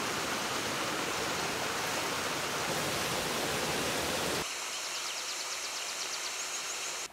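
Water streams and drains steadily from a freshly fulled homespun wool blanket laid out on a bench in Gyergyóremete, a loud rushing hiss that drops abruptly to a softer trickle partway through, with faint birdsong behind it.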